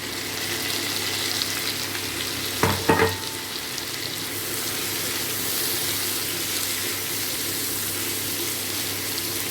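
Potatoes and green chillies frying in mustard oil seasoned with black cumin seeds, a loud, steady crackling sizzle with a brief burst of sharper spatter as the chillies drop in.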